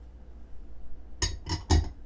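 Utensil clinking against a bowl while two eggs are beaten into oil for crispy chocolate chip oatmeal cookie dough: three quick, close, bright taps in a steady rhythm after a quiet pause.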